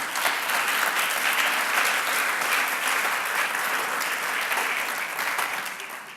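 A church congregation applauds, a dense, steady wash of many hands clapping that holds evenly for several seconds and then begins to fade.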